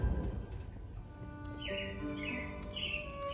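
Bright whistled robin song phrases repeat a few times over a steady hum, moderately distant, with no talking, on Walt Disney's Carousel of Progress ride at Magic Kingdom.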